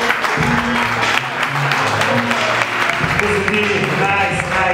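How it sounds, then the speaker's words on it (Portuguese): Audience clapping and cheering at a stand-up comedy show, a steady wash of applause under an amplified voice and music-like tones, loud and continuous throughout. "dar uma salva de palmas para vocês mesmos."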